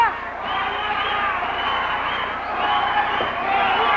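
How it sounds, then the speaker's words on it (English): Crowd at a AAA wrestling event in Austin, Texas, cheering and chanting together in a sustained roar that swells slightly toward the end, a broad arena wash with no single voices standing out. "The crowd is saying otra means do it again."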